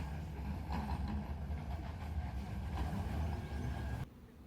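A MediaCityUK tram in Salford rumbles steadily along the track with low mechanical drone and faint rattling, fairly close, then cuts off abruptly near the end.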